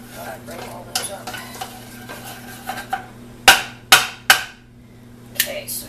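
Softened onions sizzle in a pan while a utensil stirs and breaks them up, with soft scraping, frying hiss and several loud sharp clanks against the pan in the middle.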